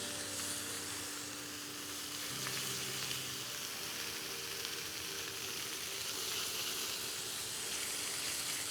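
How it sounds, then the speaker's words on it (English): Beef rouladen searing in a hot pan, turned to brown all sides, give a steady close sizzle and hiss of frying that runs unbroken throughout, with no talk over it. "I'm gonna get that nice sear on there. Do all sides."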